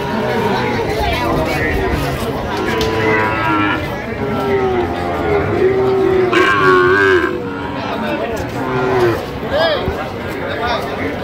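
Sahiwal bull calf, about seven months old, on a farm in Barishal, mooing in several drawn-out lowing calls close by, with crowd chatter and voices murmuring underneath throughout.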